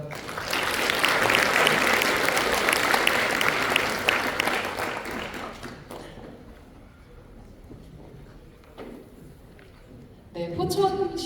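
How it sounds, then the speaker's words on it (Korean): Audience applause at a drone deployment development seminar: a dense, steady burst of clapping for about six seconds that fades into quiet room sound, followed by a brief voice near the end. "다시 한번 큰 박수 보내주시기 바랍니다"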